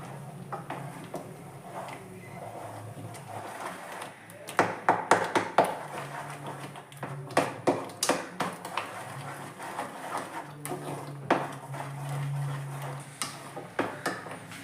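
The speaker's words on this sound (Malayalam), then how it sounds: "കട്ട കെട്ടാതെ നല്ലപോലെ ഇളക്കി, നല്ല അടി പിടിക്കാത്ത രീതിയിൽ ഇളക്കി കൊടുക്കണം" A spoon stirs semolina into boiling water in a cooking pot for rava kesari, giving a steady run of close taps and scrapes against the pan, louder in bursts, with a faint low hiss beneath.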